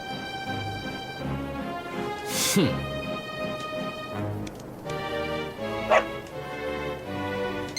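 A dog barks and yips in the Dragon Quest XI S role-playing game, with short barks and whimpers over continuous game music, plus a brief bright flourish partway through.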